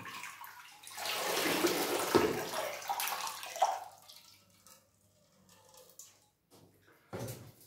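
Clean water runs from a tap for a few seconds, a steady broadband splash that rises, holds and then tapers off. A quiet pause follows, broken by a few faint knocks and a short final burst of water.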